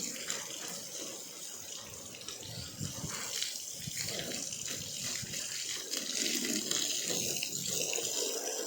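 A hose jet washes down a vehicle outdoors, giving a steady, close, splashing rush of water that runs unbroken and swells a little toward the end, with no voices.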